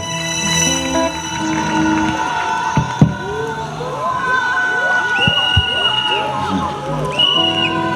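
A large crowd at a youth camp opening ceremony in Guiglo cheers and acclaims with shouts, whoops and children's voices, loud and continuous with a spoken voice mixed in.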